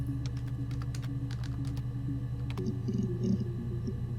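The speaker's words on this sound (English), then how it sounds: "So I could type in." Keywords typed on a keyboard in the video game Her Story, a run of quick, close clicks over a low background hum, ending in a soft electronic tone.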